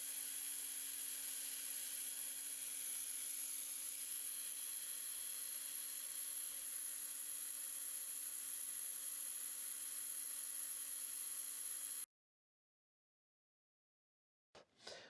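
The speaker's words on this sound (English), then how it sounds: "So I put the drill in the vise, chucked up a valve, and firstly with a file and then finishing up with emery cloth" A drill clamped in a vise spins an engine valve for a TEA20 tractor while its sealing face is filed and sanded with emery cloth, giving a steady, close whine for about twelve seconds before it stops and falls silent.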